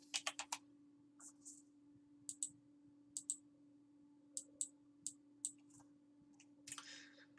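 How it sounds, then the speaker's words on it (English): Computer mouse left-clicking while adjusting menu settings in a website builder, a series of sharp, close clicks in uneven bursts with short pauses between, alone against a quiet room hum. "I'm just left clicking and putting in the new values here."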